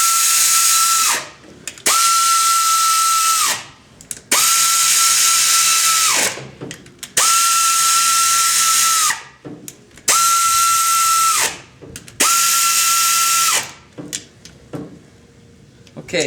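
A power tool runs down the cylinder head bolts of a vintage engine in repeated bursts, with six loud whirring runs of about two seconds each, separated by short pauses.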